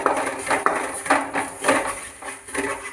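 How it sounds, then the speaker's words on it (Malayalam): Spices with a pinch of chili powder are sautéed in a pan over a low flame, a metal utensil scraping and clinking against the pan in repeated close strokes under a steady hiss. "ഇത് ഇത്രയും ഇട്ട് നല്ലോണം വഴറ്റുക. ലോ ഫ്ലെയിമിലാക്കിയിട്ട് വേണം വഴറ്റുക."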